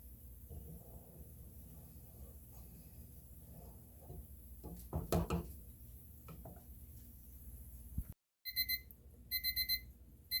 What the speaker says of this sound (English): That beep means we are up to temperature.